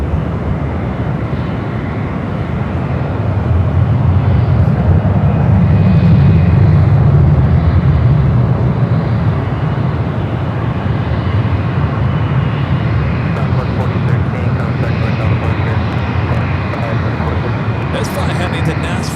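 A 25-year-old United Airlines Airbus A319 takes off at San Francisco airport, a broad, steady jet roar that swells and holds at a distance, with faint clicks at the end.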